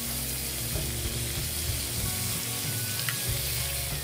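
Marinated pork pieces for hamonado frying in a pan and being turned one by one, a continuous close sizzle with a few soft flipping scrapes and no talking.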